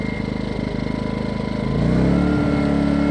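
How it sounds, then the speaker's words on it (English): A Ryobi portable generator's engine steadily runs, then picks up and revs higher about halfway through, settling into a louder, fuller drone with no talk over it. "then it'll rev up and run"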